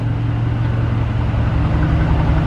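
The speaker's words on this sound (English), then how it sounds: "Listen to that grumble through those exhausts" Mercedes-AMG GT R V8 burbling steadily through its exhausts with the valves open, a loud, continuous low grumble at close range with no talk over it.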